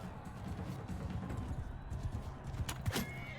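A horse in Mount and Blade 2 Bannerlord gallops with quick muffled hoofbeats amid the clatter of battle, ending with a sharp snort or whinny near the end.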